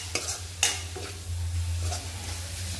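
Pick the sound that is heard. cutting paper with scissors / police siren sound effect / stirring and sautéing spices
stirring and sautéing spices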